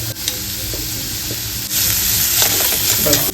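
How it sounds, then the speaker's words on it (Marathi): Chopped onion frying with salt in a hot pan, a steady close sizzle with occasional stirring scrapes, growing slightly louder partway through, no voices. "कांदा टाकून घेऊ कांदा चांगला गोल्डन रंगावर भाजला पाहिजे"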